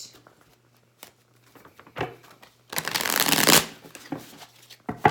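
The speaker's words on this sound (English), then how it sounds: "Let me just make sure I have all my cards." Halloween Tarot cards are shuffled and handled nearby: a few soft taps and slides, then a loud riffling burst of shuffling, followed by more light card handling, with no talk.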